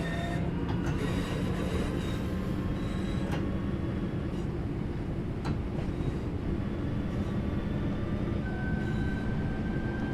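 A train runs on the Glossop Line in Train Sim World 3 with a loud, constant rolling rumble, faint whining tones and occasional clicks from the rails, without any talk.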